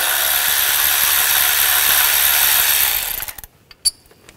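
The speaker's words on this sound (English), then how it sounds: "Using a 10 millimeter socket, take this bolt out." A ratchet with a 10 mm socket backs out an ignition coil bolt on a 2014-2020 Nissan Rogue 2.5L, a close, continuous buzzing whir for about three seconds that stops abruptly, followed by a couple of sharp clicks.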